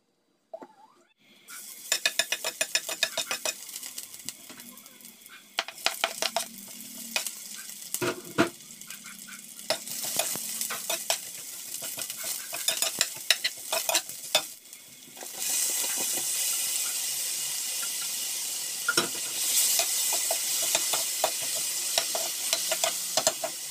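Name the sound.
food being stirred and fried in a pan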